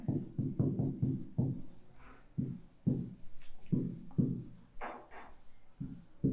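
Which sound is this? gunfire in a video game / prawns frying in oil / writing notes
writing notes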